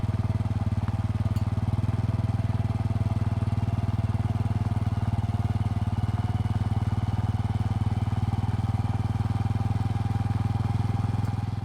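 A Honda Trail 125 motorcycle engine runs at a steady, unbroken idle for the whole stretch, close and fairly loud, with a low even drone and no change in pace.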